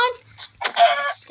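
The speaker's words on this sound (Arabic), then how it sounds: "دجاج كثير" Chickens clucking in the Minecraft video game, a few short game-sound clucks close and fairly loud in a brief burst, with a voice speaking around them.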